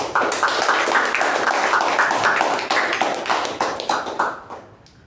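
Members at a Toastmasters club meeting give a round of applause, close, dense clapping from a small group that runs steadily and then tapers off toward the end.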